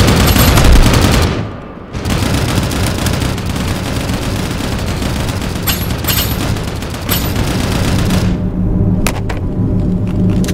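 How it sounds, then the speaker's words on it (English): Sustained gunfire in the mobile shooter Bladeline, a loud, dense fusillade of rapid shots that drops out briefly, then resumes with scattered sharp bursts near the end. "Taking fire."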